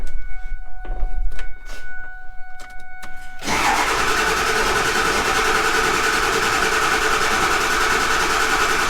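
An engine with its injectors pulled cranks in a long rhythmic churn for about three seconds, then catches and settles into a loud steady idle close by, with no talking.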